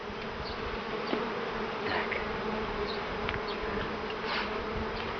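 Honeybees buzzing steadily around hives opened for inspection, a dense continuous hum close by with a few individual bees passing nearer.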